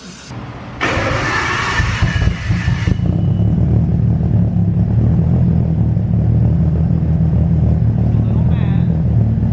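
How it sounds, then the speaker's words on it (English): An E85-fuelled Nissan Skyline R33 engine idles low and steady at about 600 RPM with a lumpy, rumbling rhythm, close by, after a brief burst of louder noise at the start. "He is idling pretty mean right now."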